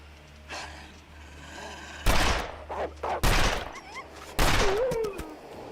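Three loud, separate gunshots ring out in The Long Dark, each a sharp crack followed by a decaying tail, spaced about a second apart, with faint breathing-like sounds between them.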